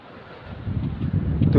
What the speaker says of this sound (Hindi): ठंडी हवा चल रही